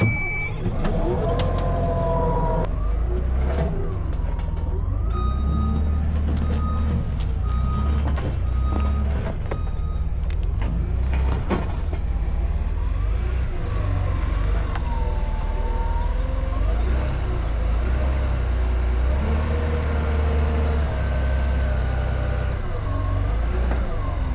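A CAT 966K wheel loader's heavy diesel engine, with a clogged DPF, runs steadily and loud throughout, with a reversing beeper chirping repeatedly over the low rumble.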